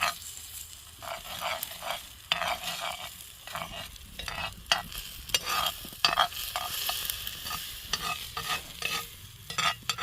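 Eggs cooking in a pan over a campfire, a low steady sizzle broken by repeated scraping and stirring strokes of a utensil, close and clear with no talk.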